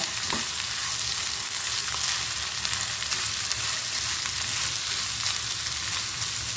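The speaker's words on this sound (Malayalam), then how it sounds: "ഇത് നമുക്ക് അത്യാവശ്യം ഒന്ന് നന്നായിട്ട് തന്നെ വഴറ്റിയെടുക്കേണ്ടതുണ്ട്" Asafoetida and spices are sautéed in a pan with a loud, dense, continuous sizzle up close and a brief scrape of a spatula near the start.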